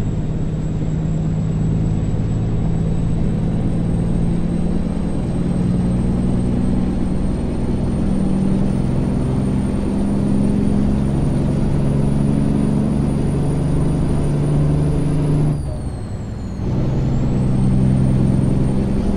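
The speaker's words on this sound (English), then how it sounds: "This engine sound, it doesn't replace the default engines, it just replaces the sounds of the default engines." An American Truck Simulator truck engine with a sound mod hums loud and steady, close by, with one brief dip near the end like a gear change before the drone resumes.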